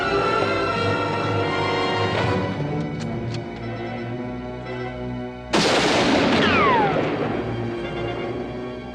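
Gunfire in a western movie: a few sharp shots ring out over a sustained musical score, then a loud burst of blasts with ricochet-like whines sweeps in near the end.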